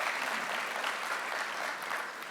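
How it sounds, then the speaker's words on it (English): Steady audience applause fills a county state-of-the-county address, a dense, even wash of clapping from a crowd that holds at moderate loudness throughout. "Yes, that deserves a round of applause."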